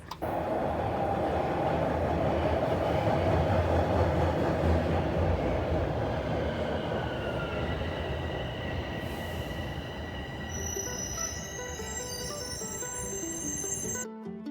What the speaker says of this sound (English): Now I am at the Vaughan subway station